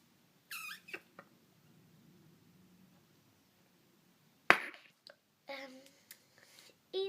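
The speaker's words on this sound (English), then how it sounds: "Bubbles, I don't know if I'm going to be able to do this or not because it makes a really weird noise" Slime squeezed by hand to force out air bubbles, giving sparse squeaky pops and clicks, close and quiet, with a sharp louder burst midway and long near-silent gaps.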